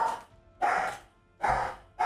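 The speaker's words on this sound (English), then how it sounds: "the dog is so loud" A dog barks loudly three times at an even, slow pace, each bark close and full, with quiet gaps between, during a game session.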